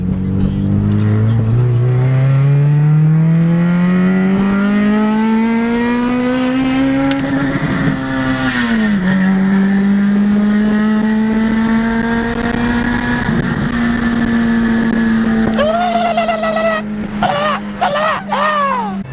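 An Acura RSX Type-S with a custom exhaust pulls hard through the gears from inside the cabin, engine note rising steadily, dipping sharply at an upshift, then climbing again before a couple of quick revs near the end; loud and continuous.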